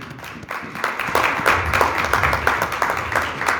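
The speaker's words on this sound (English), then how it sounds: "let's clap hands for Jesus" Church congregation clapping hands during a sermon, a lively, fairly loud crowd of claps with some rhythmic accents running throughout, with faint voices in the background.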